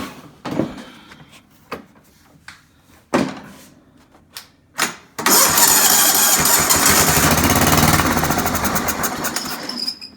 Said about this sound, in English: So it'll crank and run until it runs out of that little bit of gas that I put in.